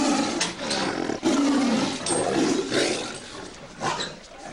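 A lion or tiger at a Las Vegas attraction lets out a deep, rumbling roar that rises and falls in several long surges over a few seconds. It is loud and near, with nobody talking.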